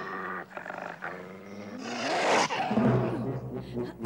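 Dogs in an animated Jungle Book episode growl and snarl in a loud, rising burst, deep rumbling building to a harsh peak before settling into lower growls amid scuffling.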